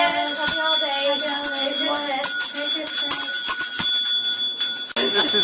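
A rotary bell rings loudly and steadily, a bright sustained metallic jangle with sharp strikes throughout, close and filling the whole span.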